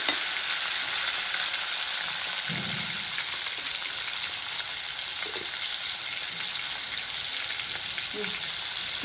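Tomatoes and green chillies frying in a pan for paneer biryani, with a loud continuous hiss of sizzling oil and a few faint low knocks from the pan, no voices.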